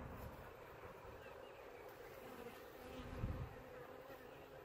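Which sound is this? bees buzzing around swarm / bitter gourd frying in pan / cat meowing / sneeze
bees buzzing around swarm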